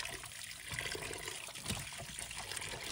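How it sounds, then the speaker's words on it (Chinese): Running water pours over celery in a basin, a steady splashing trickle with small bursts as the stalks are rinsed, fairly faint and close, no voices. "把芹菜放入盆中，用流动水把它清洗干净，让流动水冲洗着芹菜的每一根"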